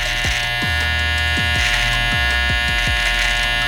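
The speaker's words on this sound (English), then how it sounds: "with our clipper, no guard on it, we're gonna freehand and we're just gonna cut off the tips there" Electric hair clipper with no guard freehand trimming the tips of a beard, a loud, steady close buzz with a series of brief dips in pitch as the blades meet the hair.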